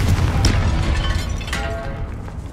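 The Confringo blasting spell goes off in Hogwarts Legacy as a close, booming explosion. A second, sharper burst follows about a second later over a rumbling low wash.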